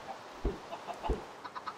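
Chickens in the Minecraft video game, with two clear short clucks followed by several quicker, fainter clucking notes, heard alone with no talk.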